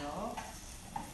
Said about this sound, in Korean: 팬에 식용유를 두르고 깨끗한 재료 도라지 먼저